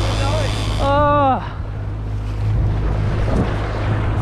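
A fishing boat idles on the ocean off Fraser Island with a low, steady engine drone under wind and water wash, while a voice calls out briefly near the start.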